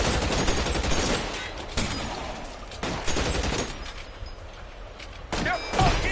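Gunfire in the video game L.A. Noire: repeated loud bursts of shots and booming volleys in a rapid fusillade, close and dense throughout, with no speech.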